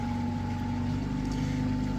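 An ePropulsion Navy 3.0 electric outboard motor drives a Scarab 22 trimaran at about a third of full speed, giving a steady, faint whine and hum over a low wash of water, unbroken and without speech.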